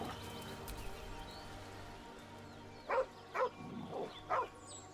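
A dog in the video game Baldur's Gate gives several short barks and yips near the end, spaced about half a second apart over a low, steady game soundtrack.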